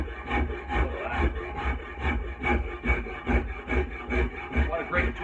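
Coarse side of a Shinto rasp shaving wood from a wooden axe handle, a steady run of rhythmic rasping strokes roughly twice per second, close and loud throughout.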